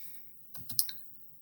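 Short burst of typing on a computer keyboard: four or five quick, close plastic key clicks in a cluster, then quiet.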